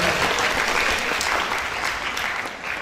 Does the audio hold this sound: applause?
yes